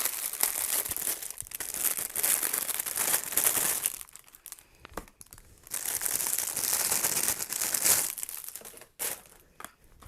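Plastic packaging being crinkled and peeled off an LED keychain light, loud close crackling in two long bursts separated by a brief quieter pause, with no talking.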